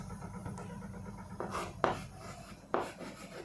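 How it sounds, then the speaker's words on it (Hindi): Handwriting on paper, a few short scratchy pen strokes in separate bursts, close and fairly quiet over a low steady background hum. "मैं यहाँ पे लिख देती हूँ"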